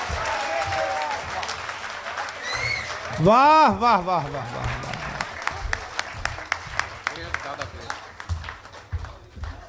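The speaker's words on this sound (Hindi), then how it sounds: "दोनों हाथ उठाकर तालियां बजाकर स्वागत कीजिए रामेंद्र दा का" An audience at a poetry recital and award ceremony claps to welcome the poet Ramendra, first as a dense round of applause and then as sharper scattered claps, with a voice calling out in praise over it.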